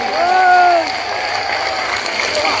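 A large crowd at a Bageshwar Dham padyatra gathering claps steadily and loudly, with a voice speaking over the applause at the start before the clapping continues on its own.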